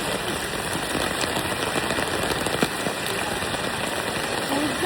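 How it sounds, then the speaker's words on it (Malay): Heavy rain at a riverside wild campsite, a steady dense broadband hiss of downpour on surfaces, continuous and close, with no talk over it. "Guys, dah hujan. Dan lebat."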